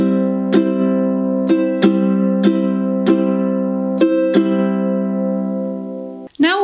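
Ukulele strumming at a steady song tempo, with repeated chord strokes landing in a regular rhythm and ringing loudly up close, ending with a brief muted scrape of the strings.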